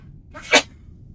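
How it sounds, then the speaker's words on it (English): A single short sneeze bursts out once, close and fairly loud, against an otherwise quiet background with no talking, heard during Starfield gameplay. "Why do I sneeze?"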